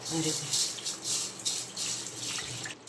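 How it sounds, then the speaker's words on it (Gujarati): Water sloshes and swishes in repeated bursts, close by, as mixed lentils are stirred and rinsed in a bowl. "પછી આપણે એને એક બાઉલમાં પાણીથી ધોઈ નાખવાની"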